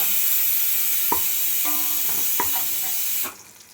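Onions fry on high flame and are stirred in a pan as a steady loud sizzle, with a few clanks and scrapes from the spoon before the hiss abruptly fades.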